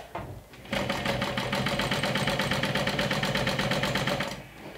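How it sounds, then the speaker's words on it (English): A sewing machine runs a 1/8 inch seam on a folded crossbody saddle bag, its rapid, even stitching clatter starting sharply, holding steady for nearly four seconds, then stopping. "I'm going to stitch with an 1/8 of an inch, with the 1/8 of an inch seam"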